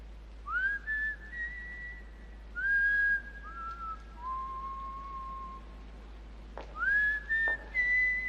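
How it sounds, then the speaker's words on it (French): A person whistles a slow tune at night, clear sustained rising and held notes in several phrases, fairly close and alone over a faint low hum. "Elle part en sifflant dans la nuit."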